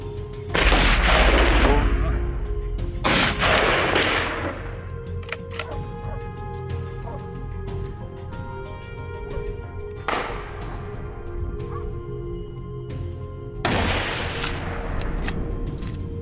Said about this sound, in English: Startled by the gunfire, the boar charged off, crashing through the underbrush